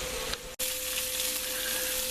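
Seafood such as shrimp sizzles and spits steadily in a hot pan, a dense close hiss with a brief dropout partway through and a faint tonal whine running underneath, no voices.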